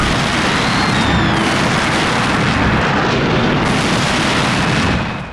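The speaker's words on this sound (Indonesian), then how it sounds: "berbagai serangan bom Tuki menghancurkan seluruh camp partisan Soviet" Bomb blasts destroy a Soviet partisan camp in a film, a loud, sustained roar of explosions and rumbling debris with whistling incoming shells overhead.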